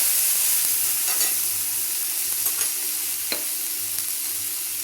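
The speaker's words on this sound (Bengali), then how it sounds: "দেখো, মশলাটা ভাজা হয়ে গেছে" Garlic, tomato, onion and ginger masala frying in a pan, a soft steady sizzle with a few brief stirring scrapes, close and moderately quiet, no voices.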